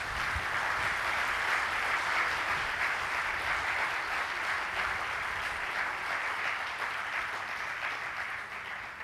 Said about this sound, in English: I think we can have a big round of applause for this session.